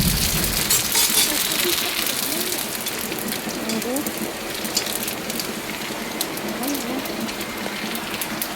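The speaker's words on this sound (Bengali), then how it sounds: "এই যে বৃষ্টি হচ্ছে, আমাদের ঘরে জল পড়ছে।" Steady rain falls on a house and water leaks inside, heard as a dense, even patter with scattered drips. A voice talks over the rain throughout.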